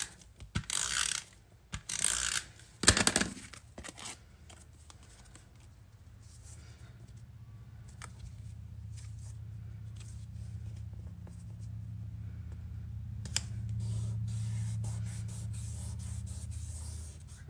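A heat tool blows steadily for heat-setting embossing powder on a handmade card with botanical prints, a low continuous whoosh after a few brief clatters of handling, filling most of the stretch at moderate level with no talk.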